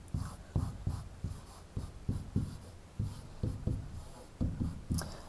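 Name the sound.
pen writing on paper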